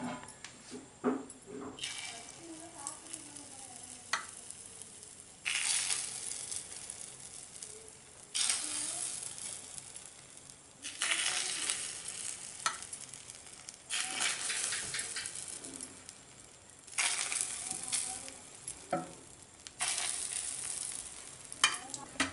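Egg paniyaram batter fries in oil in a hot cast paniyaram pan, giving repeated bursts of loud sizzling that surge and fade in rhythm over steady background hiss, without talking.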